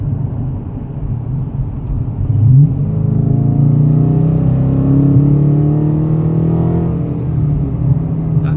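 A BMW's engine hums and revs as it drives past nearby in Miami traffic, the pitch rising and shifting as it accelerates, with a steady road whir underneath.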